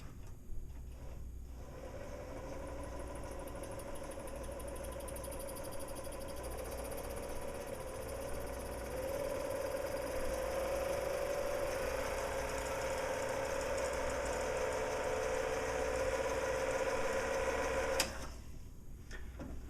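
A sewing machine winding its bobbin with the sewing clutch released gives a continuous motor whir and mechanical hum that rises slightly partway through, then cuts off abruptly near the end.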